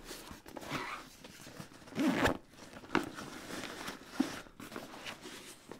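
Zippers being opened and closed on a DGA TRVRS LT backpack, several short rasping pulls in an irregular rhythm, close and moderately quiet, with some handling rustle between them.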